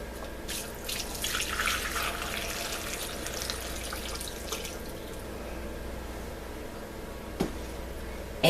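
Roast beef broth is poured through a strainer, a steady close trickle and splash of liquid that is louder at first and then settles into a continuous low pour.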